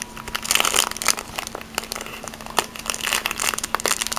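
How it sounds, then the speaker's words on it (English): Crinkly plastic packaging of polymer clay being torn and pulled open by hand, with irregular close crackles and crumpling snaps throughout and no speech. "you just almost destroy the package opening them"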